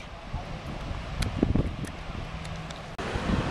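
Strong wind buffets the microphone at a beach, a rough rumbling roar with gusts surging and dropping, overlaid by brief rustles and faint crowd sounds.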